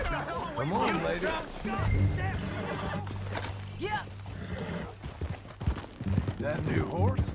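Horse hooves clop and a horse whinnies in Red Dead Redemption 2, a busy mix of hoofbeats and animal calls under steady character dialogue and a low droning score.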